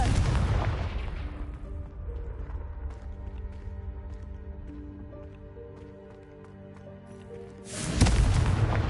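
A Confringo blasting spell from Hogwarts Legacy bursts loudly at the start, then a rumbling tail and humming tones linger before a second heavy boom erupts near the end.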